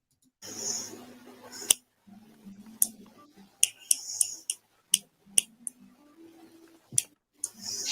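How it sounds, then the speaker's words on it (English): Sharp isolated snaps or claps, about a dozen spaced irregularly over several seconds, crisp and close, interleaved with low murmuring voices and breathy sounds. "That's the clap to wake her up."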